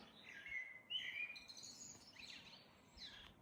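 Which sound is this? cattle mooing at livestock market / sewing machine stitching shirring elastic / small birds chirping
small birds chirping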